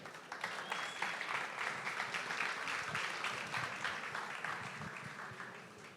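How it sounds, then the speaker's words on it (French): A Paris round-table audience at Expo Favela 2024 applauds two chefs, a full, steady burst of many hands clapping that swells early and slowly tapers, with no talking over it. "Merci de les applaudir."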